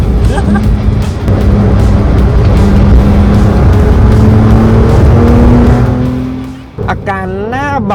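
A Porsche 992 fitted with KW V4 suspension runs at high speed, up to around 290 km/h, with a loud, sustained engine and road drone throughout. It dips near the end as a voice speaks.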